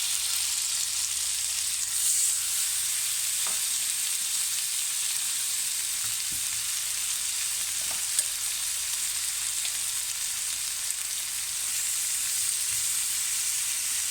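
Lamb chops frying in a little oil in a pan, a steady, fairly faint sizzle with a few soft clicks and no talking.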